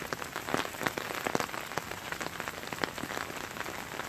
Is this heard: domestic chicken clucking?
no